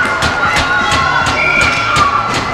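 A hockey crowd cheers and claps after a goal in a high school NVSHL game, a steady rink-wide roar with sharp claps and shouts and no voice over it.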